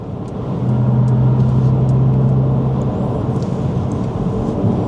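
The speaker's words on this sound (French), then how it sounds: "Je vous propose d'écouter un petit peu les différentes ambiances sonores quand on accélère. Donc là on est sur Silver Waves." Synthetic acceleration sound of a Mercedes CLA 250+ electric car in its Silver Waves setting: a steady, loud low hum with a tonal drone that holds for a couple of seconds over continuous cabin rumble, with no talking.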